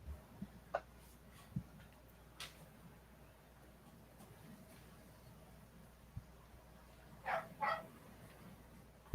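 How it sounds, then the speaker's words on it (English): A small dog gives a few brief, scattered yips and barks, faint and spread out over a quiet background, with a short double bark near the end. "That little bark."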